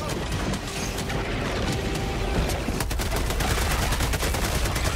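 A shotgun fires in the video game Helldivers: loud, close blasts and sharp mechanical clacks, with several rapid shots crowding over dense game noise and no talking.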